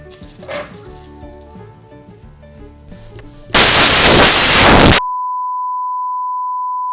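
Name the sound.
confetti cannon detonating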